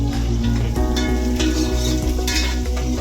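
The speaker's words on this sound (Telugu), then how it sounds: "ఇలా వేపుతూ ఉండాలి. ఎంతసేపు అంటే గోల్డెన్ బ్రౌన్ వచ్చేలాగా వేపుకోవాలి" Onions frying for chicken biryani in a pan, a steady loud sizzle with the low hum of a burner and regular scraping strokes as they are stirred, no voices present.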